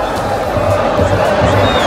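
Stadium crowd at Boca applauding Cruz Azul, the 2001 Copa Libertadores runner-up, after a football final, a dense roar of clapping and cheering that holds steady throughout.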